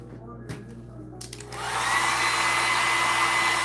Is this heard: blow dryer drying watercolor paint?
yes